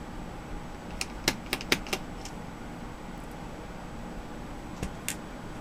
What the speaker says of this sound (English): So let's go ahead and continue taking screws out, so that way we can get the palm rest loose.